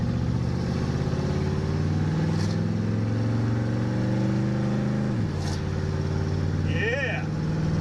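A hot rod car's engine rumbles loudly on a test drive, holding a steady low drone before dropping in pitch mid-clip, with brief higher whines and a voice briefly near the end.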